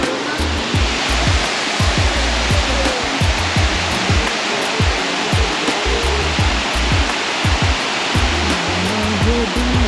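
Leaf Falls waterfall in Kodaikanal roaring as a loud, steady rush of falling water, with repeated low thumps of wind buffeting the microphone.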